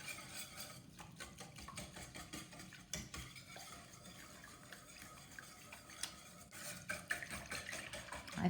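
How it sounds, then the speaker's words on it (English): Eggs being stirred into coconut custard pie filling in a bowl, a spoon or whisk clicking and scraping in quick repeated strokes, close and fairly quiet with no talking. "And 2 eggs. I'm going to give those a good stir."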